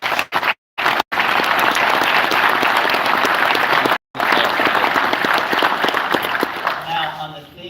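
An audience at a Marshall University event applauds loudly and steadily for several seconds, with brief cuts in the sound. The clapping fades slightly toward the end.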